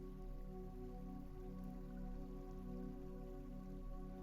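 Rain falls steadily onto the open surface of a lake, a dense, even patter that holds at constant loudness throughout with no voices.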